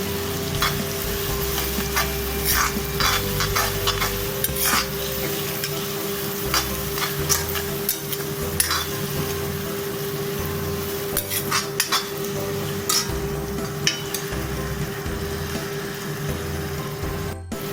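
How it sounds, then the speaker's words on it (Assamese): Steady sizzling and frying of spice paste for duck curry, with a spoon scraping and stirring against the pan, continuous and close. "এতিয়া ভালকৈ ভাজি দিম।"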